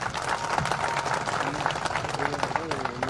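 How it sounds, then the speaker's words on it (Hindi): An audience breaks into sustained, fairly loud applause at an indoor gathering, the dense clatter of many hands overlapping with raised voices and a few whoops or shouts. "तो आर्यन OPS के लिए एक बार जोरदार ताली हो जाए"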